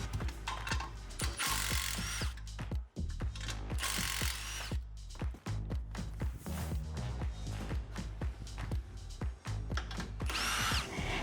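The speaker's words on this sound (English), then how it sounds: "grab your 13mm socket to unbolt the 3 bolts that are connecting your ABS module to your upper coil bucket" A 13mm socket unbolts the three bolts holding the ABS module to the upper coil bucket of a Ford F250 during a coilover lift install. Loud, close, continuous ratcheting and power-tool whirring runs in rapid bursts throughout, with no talking.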